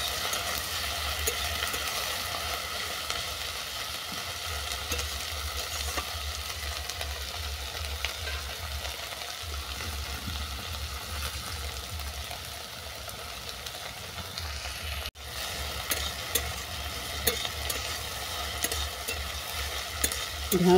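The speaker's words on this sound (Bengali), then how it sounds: "ঢেঁড়স দিয়ে পেঁয়াজটাকে বাদামি করে ভেজে নেব।" Okra and onion frying and being stirred in a pan, a steady sizzle running throughout with the scrape of stirring, one brief dropout near the middle.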